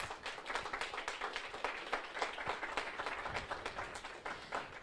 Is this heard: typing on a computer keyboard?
no